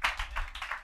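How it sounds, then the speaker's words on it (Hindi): A church congregation claps during a Hindi sermon, a quick run of rhythmic hand claps, fairly soft and roomy, about half a dozen beats in under a second. "जोर से ताली बजाओ"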